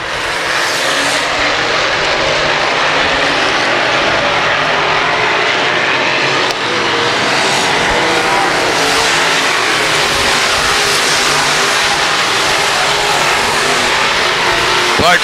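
Stock cars race at Valley Speedway, a loud continuous roar of engines close by for the whole stretch, with a race commentator talking over it.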